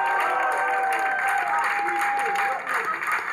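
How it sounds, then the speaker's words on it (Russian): A studio audience at a comedy joke show applauds loudly and continuously, a dense crowd clapping with some cheering and a voice talking over it. "Друзья, аплодисменты, давайте подводить итоги."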